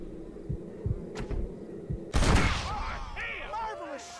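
Gunfire in the western game Red Dead Redemption: a few light pops come first, then a loud close shot crashes out and rings off, and a voice speaks afterward.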